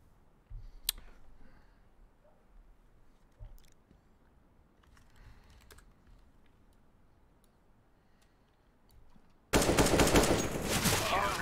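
Short bursts of gunfire in a video game shootout, faint at first, then a loud, dense rattle of shots near the end that dominates everything.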